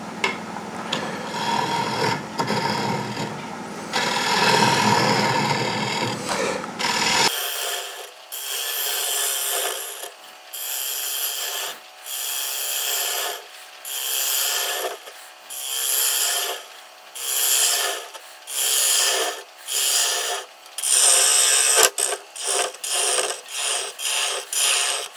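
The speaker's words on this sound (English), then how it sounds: "And now we'll use the 16 mil to get going here. And we'll hollow it out." A gouge hollowing the inside of a mango wood cup on a lathe: a continuous scraping cut at first, then a steady series of rhythmic rasping bursts with short pauses between them.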